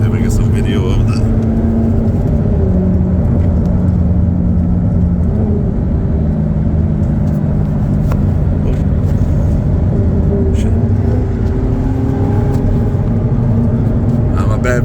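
An Audi R8 driving through the Ozark Mountains, heard from inside as a steady, loud, low engine rumble and road whir that holds throughout, with slight rises and no clear breaks.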